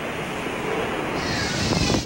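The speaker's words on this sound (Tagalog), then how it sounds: "Ganito kalakas ang hangin bumayo sa bayan ng Concepcion sa Romblon" Typhoon Nona's strong wind roars steadily over Concepcion, Romblon, a loud, continuous rushing blast with gusting surges and buffeting, heavy surf likely mixed in.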